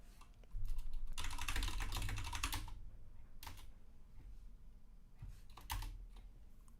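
Fast typing on a computer keyboard during free-form typing practice, with a dense burst of clicking keystrokes that eases into sparser taps, then another short flurry near the end, with no voices.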